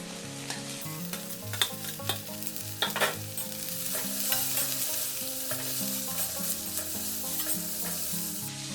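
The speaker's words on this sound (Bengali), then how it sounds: "গাজর বিটটাও দিয়ে দেবো এগুলো বেশি আমি ভাজবো না হালকা একটু ভেজে নেবো" Carrot, beetroot and beans are lightly fried and stirred in a pan for veg cutlets, a gentle sizzle swelling louder midway with scattered spatula clicks, all beneath steady background music.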